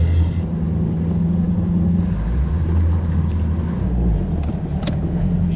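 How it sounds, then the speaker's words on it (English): A fishing boat's trolling motor runs on shallow water with a steady low hum and drone, a faint brief tick near the end, with light wind noise over the microphone. "Use the trolling motor from here."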